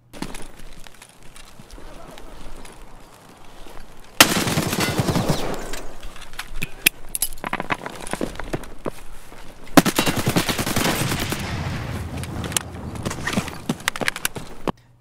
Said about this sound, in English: instead just lean and throw the grenade at the same time